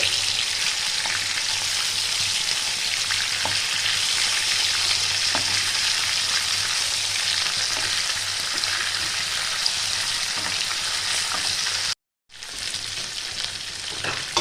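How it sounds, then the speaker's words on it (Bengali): Chicken pieces fry in a pan with a steady, loud sizzle and crackle, with occasional stirring clicks and a brief cut near the end, no voices. "মিনিট উল্টে পাল্টে দিয়ে ভাজাভাজি করে নেব হালকা ব্রাউন আসবে"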